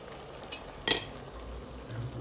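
Mixed vegetables sautéing in butter in a pan give a soft, quiet sizzle, broken by a couple of short utensil clinks and scrapes against the pan.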